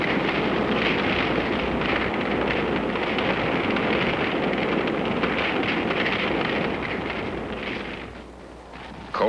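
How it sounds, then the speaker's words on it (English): Freezing sawtooth wind at twenty degrees below zero roars in a loud, unbroken rush over a Korean War battlefield, with a steady dense blast throughout and no voices. "Sawtooth wind. 20 freezing degrees below."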